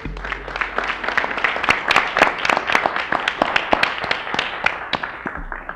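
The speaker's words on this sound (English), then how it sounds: "Let's give them a big round of applause." Applause fills a city commission meeting: a room of people clapping steadily and fairly close for several seconds before it stops.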